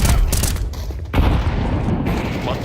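A flashbang grenade goes off in Counter-Strike 2, a loud broadband burst that lands at about one second amid dense, continuous gunfire-like game noise.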